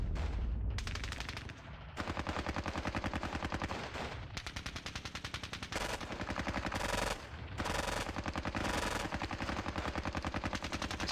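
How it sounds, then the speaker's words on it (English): Tanks and machine guns firing in the war game Squad Battles Red Victory: dense rapid automatic bursts in long runs, loud and continuous with brief pauses between volleys. "Those tanks are firing in there."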